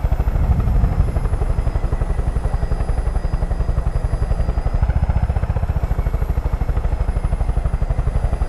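A helicopter in the video game Far Cry 5 gives a steady, loud, fast rotor thump with a constant engine whine, heard alone and close throughout.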